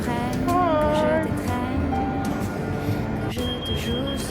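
Busy interior ambience of Gare du Nord train station in Paris: a low rumbling hum with murmuring voices, a brief clack, and a faint high tone near the end.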